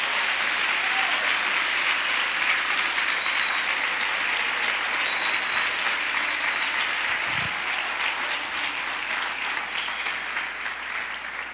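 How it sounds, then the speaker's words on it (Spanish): A church congregation in Venezuela applauds in a dense, steady wash of clapping that fills the room for about twelve seconds, tapering slightly at the end. "Aplaude al Rey de Gloria."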